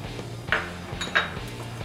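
Cornflour and flour being stirred into marinated chicken in a bowl, giving two distinct clinks of a utensil against the bowl over a low background hum, with no talking.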